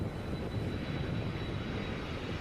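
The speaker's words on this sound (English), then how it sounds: "that's the plane using reverse thrust" A landing airliner roars in reverse thrust, a loud, dense, unbroken rumble of jet engine noise that holds steady throughout with no voices.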